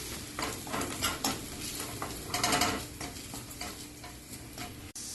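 Ground chili, coriander and cumin powders sautéing in a pan for a soya chaap masala curry, a steady sizzle with repeated scraping strokes of a spoon, heard alone and close.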